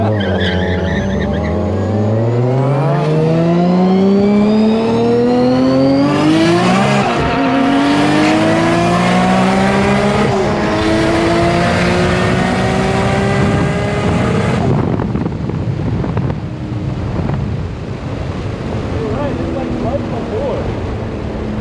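R32 GTR and Lamborghini race cars roar side by side at a roll racing event, engines revving hard with rising pitch through gear changes, loud and close, a brief tire squeal, then fading under crowd and wind noise.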